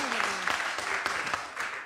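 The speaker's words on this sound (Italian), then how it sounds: "Un applauso addirittura" Brief applause from a studio audience on an Italian television programme, a steady wash of clapping that sounds a little distant, with a voice faintly over it at the start.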